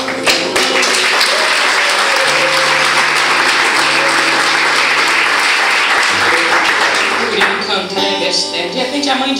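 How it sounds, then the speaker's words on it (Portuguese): Church congregation applauds loudly and continuously during a worship service, with music or voices faintly underneath and the clapping easing near the end. "aplauda o Senhor."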